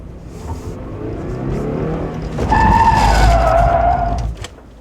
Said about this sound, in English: I need to carry more speed, pull the e-brake. I can swing it all the way around.